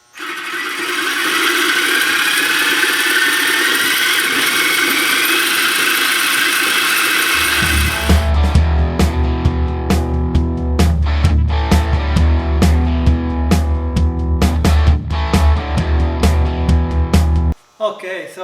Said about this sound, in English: I'm going to take the Sawzall, easiest way to do that. Cut this off